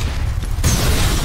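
A barrel bursting after being shot in the F.E.A.R. first-person shooter, a sudden loud broadband blast that cuts in partway through and holds over a low rumbling game backdrop.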